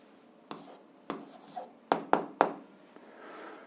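A pen or pencil writes out the answer to an algebra exercise by hand, about six short scratchy strokes close by, some in quick succession, with quiet gaps between them and no speech.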